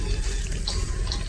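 Water rushes and splashes continuously in a close, steady flow, like water poured or thrown from a tap or vessel, with no voices.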